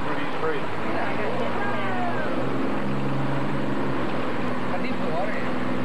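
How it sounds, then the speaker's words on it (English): The engine of a swamp tour boat in Baton Rouge, Louisiana runs with a steady low drone as it squeezes through trees. Voices talk over it the whole time. "The boat barely makes it through these trees."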